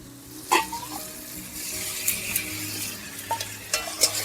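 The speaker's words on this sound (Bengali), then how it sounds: "সর্ষে পোস্তটা দেওয়ার পর আমি কিছুক্ষণ নাড়িয়ে নিলাম।" Mustard and poppy seed paste frying in a pan for a ridge gourd curry, stirred with a utensil: a steady close sizzle broken by several sharp scraping strokes against the pan, no voices.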